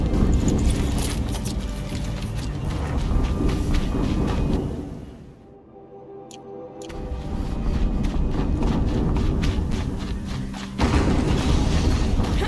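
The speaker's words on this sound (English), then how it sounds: "Another explosion." Rumbling explosions in Horizon Zero Dawn, dense booming and mechanical clatter that fades into a short lull, then swells back loud and continuous.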